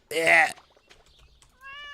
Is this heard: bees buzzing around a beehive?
no